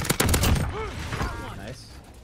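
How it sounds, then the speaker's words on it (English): A single sharp AX-50 sniper rifle shot in Modern Warfare Warzone, loud and close at the start, followed by ringing game effects and a fading tail. "I pick up the AX-50 with the thermal, instant headshot"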